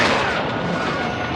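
An RPG explosion in Call of Duty: Modern Warfare 2 rolls out as a loud, sustained booming roar that slowly fades over more than a second.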